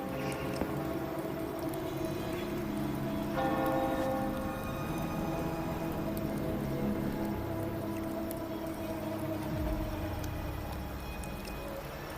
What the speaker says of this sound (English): Hear that? The bell they tolled.